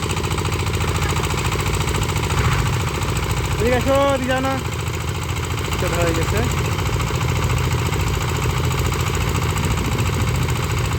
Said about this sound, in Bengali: বড় ইঞ্জিনটা এখন স্টার্ট দিবে।